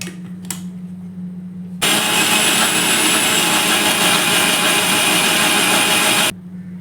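A kitchen mixer grinder (mixie jar) whirs loudly while grinding coconut, ginger and cumin with curd. The steady, harsh motor roar starts abruptly, runs for about four and a half seconds, then cuts off.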